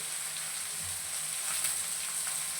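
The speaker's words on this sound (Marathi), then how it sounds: "आता राई जिरे छान असे तडतडले की यामध्ये आपण भरपूर असा कट केलेला पातळ कांदा टाकणार आहोत." Thinly sliced onion frying in oil tempered with mustard seeds and cumin, a steady, hissing sizzle close by for a few seconds.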